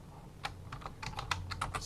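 Quick, close keystrokes tap out a command on a computer keyboard, a burst of about ten light clicks in uneven rhythm, quiet and alone.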